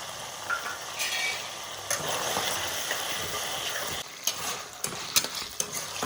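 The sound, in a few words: chicken pieces frying with ginger garlic paste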